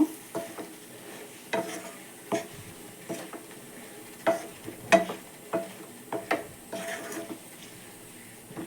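Mushrooms fry in a dhaba-style masala gravy while a spatula stirs them, giving irregular close knocks and scrapes against the pan over a faint, low sizzle.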